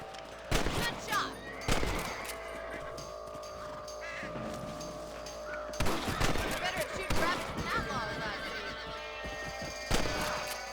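Gunshots from shooting rabbits in the Western game Red Dead Redemption, a handful of sharp loud cracks spaced apart over a steady outdoor ambience, with horse whinnies and hoof clatter mixed in.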